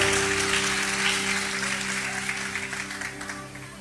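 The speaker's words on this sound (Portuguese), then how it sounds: "aplauda mais forte, porque Ele merece" Church audience applauding loudly and steadily at a worship event, a dense continuous wash of clapping over sustained music tones.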